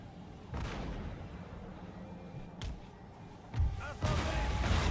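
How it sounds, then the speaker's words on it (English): Cannon fire from Napoleon: Total War battlefield, several heavy booming shots landing at intervals with broadband rumble, the loudest near the end, and a voice talking over the action. "we're getting some cannon shots off"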